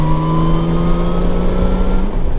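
A 1998 Honda Valkyrie motorcycle on stock exhaust pipes idles and revs with a loud, steady, close engine drone that shifts pitch briefly near the end, with no one talking.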